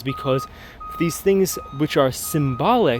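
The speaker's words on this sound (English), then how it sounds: "Sorry about the beeping of the car." A parked car nearby emits steady, evenly spaced electronic reversing beeps underneath a man's continuous lecture-style speech.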